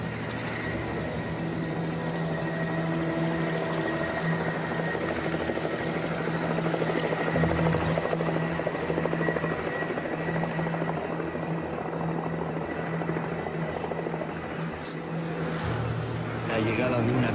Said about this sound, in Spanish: Lo que parecía un helicóptero se ha convertido en toda una patrulla.